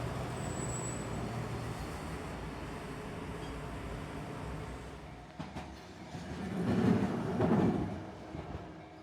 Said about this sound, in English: Beary filmed the tram going past this gate